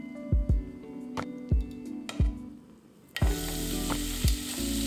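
Minced beef sears in hot oil with a steady sizzle, while several sharp knocks from a utensil on the pan punctuate it. Partway through, the frying swells louder and denser and carries on to the end, close and with no talking.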